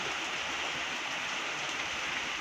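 Steady rain falls over a rural village on a monsoon day, a dense, even hiss that stays constant throughout with no voices.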